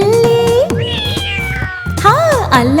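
A cat meows in a playful children's rhyme, several drawn-out, rising and falling meows sounding close and clear over a sung melody and music.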